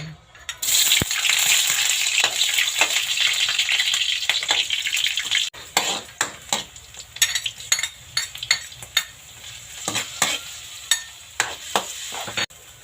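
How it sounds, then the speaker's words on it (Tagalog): Ingredients for pork kare-kare sautéing in a pan: a steady loud sizzle for several seconds, then quieter frying broken by repeated sharp utensil scrapes and clinks against the pan. "Guys, maggisa na tayo."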